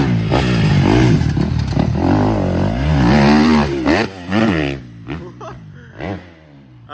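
A supercross motorcycle engine roars loudly as the bike takes a turn and launches into a triple jump on a dirt track, revving up and down in rising sweeps before fading into the distance.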